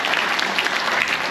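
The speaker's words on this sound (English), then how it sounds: "Big round of applause wherever they are." Brief, dense applause rises from an audience at a military appreciation gathering aboard a cruise ship, a steady, loud burst of many hands lasting just over a second.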